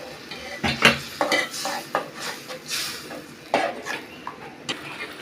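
Chopped tomatoes stir-fried in a pan for a fish dish with dried fish, with a spoon scraping and clinking against the metal in irregular strokes over a light sizzle, close and fairly loud, with no talking.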